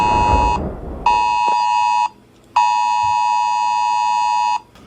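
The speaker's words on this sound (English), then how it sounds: "So the phone just went off." A phone emergency alert warning of a tornado on the ground, near a 1974 International Travelall under bodywork: two long, loud, steady electronic tones, each about a second and a half, separated by a short gap.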